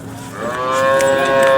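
A large cow gives a single loud, close moo at the Sangola cattle market, a drawn-out bellow that swells in strength over about a second and a half.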